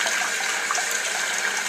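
Steady tap water runs continuously while conditioner is rinsed out of a makeup brush under the stream, a close, even splashing hiss with no pauses.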